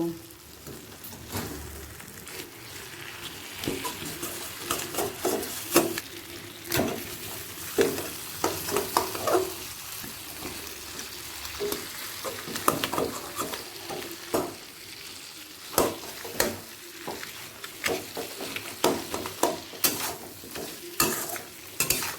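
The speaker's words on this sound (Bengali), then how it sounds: "মুড়োগুলো পেঁয়াজ রসুনের সাথে দু মিনিট ভাজা হয়ে গেছে মিডিয়াম ফ্লেমে" Fish heads frying with onion and garlic over a medium flame, steady sizzle with repeated scraping stirs throughout, close and moderately loud, with no talk.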